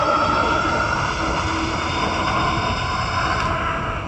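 A 6000W Wired Predator electric bike accelerates hard at full throttle, its motor giving a steady loud whine with rushing wind noise, close and continuous.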